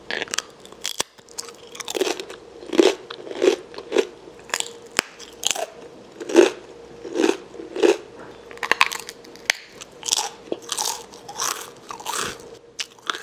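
Close, loud crunching of a whole grain garlic snack with sesame seeds, steady bites and chewing repeating through the stretch with no talking.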